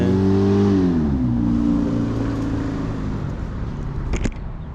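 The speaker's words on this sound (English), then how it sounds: "I've never seen a Ford minivan have an exhaust like that" A Ford minivan with a loud aftermarket exhaust drones close by, its revving engine pitch falling as it passes and fades, followed by a brief sharp sound.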